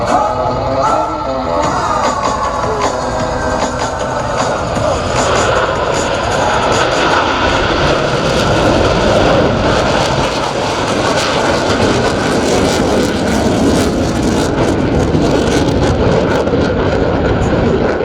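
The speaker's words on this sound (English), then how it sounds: "As each aircraft accelerates to 500 miles per hour, they will perform a reversal turn back toward the flight line" U.S. Navy Blue Angels jets flying at the 2025 Columbus air show, a loud sustained roar with a broad rushing rumble that builds and swells as the aircraft pass overhead.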